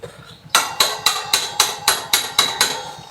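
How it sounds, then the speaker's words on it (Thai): A hammer strikes a rear axle through the swing arm hole of a Honda Wave 110i motorcycle during rear wheel assembly: eight sharp, ringing metallic taps at a steady quick rhythm, loud and close, with no talking. "เล็งให้ดีแล้วก็ค้อนเคาะผ่านเข้ามาเลยนะครับ"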